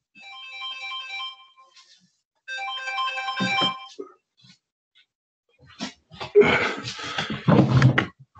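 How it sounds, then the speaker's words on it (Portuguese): A mobile phone ringtone goes off during a talk, a loud melodic electronic tune played in two bursts with a pause between, followed by rustling and handling noises as the phone is silenced. "Não sei se sou eu ou não, desculpem lá, deixem-me só desligar ali o telemóvel"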